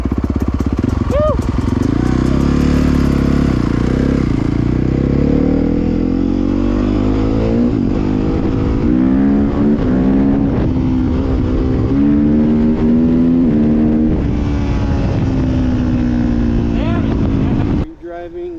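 An ATV engine drives and revs on a mountain ride, loud and close throughout, its pitch rising and falling with throttle, while people talk over it.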